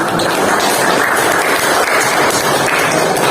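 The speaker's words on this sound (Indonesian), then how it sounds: "Tepuk tangan dulu buat kalian sendiri" A classroom of students claps together, a steady, fairly loud wash of hand clapping that continues without a break.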